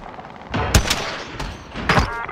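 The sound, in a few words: gunfire in video game Call of Duty Warzone, Verdansk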